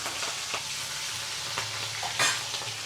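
Green chillies hit hot oil with asafoetida for a gunda sambharo tempering, a steady close sizzle broken by a few scraping stirs of a spoon in the pan.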